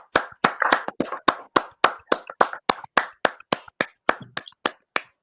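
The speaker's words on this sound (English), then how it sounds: "So please, a round of applause for our Black historian" Small group of listeners clapping for a Black historian on a show, about twenty sharp, evenly spaced claps at a steady rhythm, loud and close, with no voices over them.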